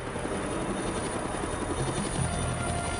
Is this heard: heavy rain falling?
no